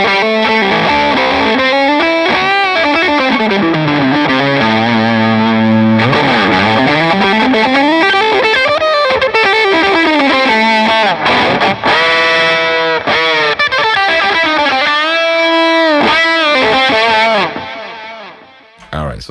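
Heavily distorted electric guitar through a fuzz preset on a Line 6 POD Go plays bending, sliding lines and sustained notes continuously, loud and saturated, fading out at the end.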